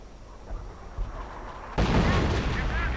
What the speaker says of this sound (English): Volkswagen squad almost utterly evaporated by American artillery